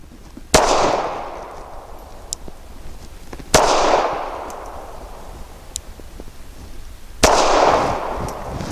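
Three loud, sharp gunshots from a Springfield Armory 911 .380 pistol at a target range, each a crack about three seconds apart with a short decaying tail and quiet between.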